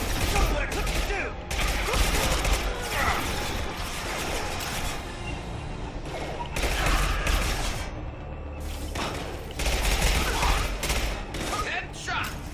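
Rapid bursts of gunfire from a sci-fi shooter game, Mass Effect 2, loud and dense in repeated volleys with brief gaps between them.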